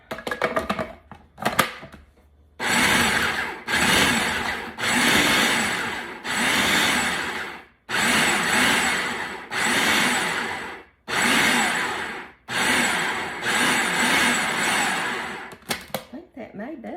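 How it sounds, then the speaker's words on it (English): A food processor pulses butter into a pie crumble topping, giving about nine loud whirring bursts separated by short pauses, with clicks and a voice talking briefly before the pulsing begins. "I'm just going to pulse it until it's mixed, and you'll be able to see some of the butter in it"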